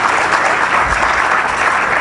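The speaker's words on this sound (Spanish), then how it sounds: "Muchísimas gracias, pues un fuerte aplauso." Steady applause from a seminar audience thanking the speakers, a dense even patter of many hands clapping throughout, fairly loud and close with no voices over it.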